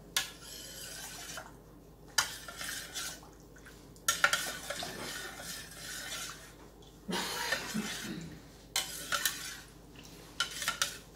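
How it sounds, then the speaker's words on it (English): A spoon clinking and scraping against a pot while honey is stirred into hot elderberry juice, in irregular bursts of metallic taps separated by quiet pauses, close but fairly soft. "then you add your honey. And you incorporate it really well. Make sure it's all stirred in."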